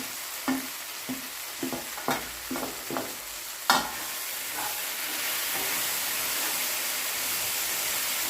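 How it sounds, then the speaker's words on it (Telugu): Okra and peanut fry being stirred in a pan after chili powder and coriander powder go in: several sharp scraping strokes of a spatula over a steady oily sizzle, which carries on alone afterward. "ఇప్పుడు కారం ధనియాల పొడి వేసుకొని కలుపుకోవాలి"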